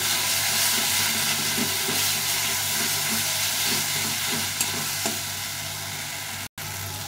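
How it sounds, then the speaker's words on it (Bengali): Ginger and garlic frying in a pan for street-style ghugni, a steady close sizzle running unbroken for several seconds with faint stirring scrapes and a brief cut near the end. "সবগুলোকে ভালো করে ভেজে নিলাম।"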